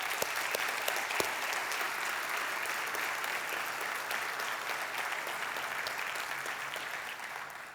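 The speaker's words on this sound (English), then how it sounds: "So please help me give the entire Allen family a huge round of applause." An audience at a city's State of the City address claps steadily, a dense, even round of applause heard from within the hall that fades slightly at the end.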